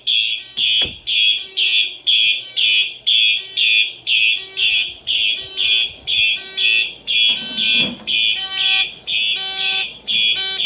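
A loud, shrill electronic alarm from a Simplex fire alarm system pulses in rapid repeated bursts during a system test, steady and insistent, with a brief low thump partway through.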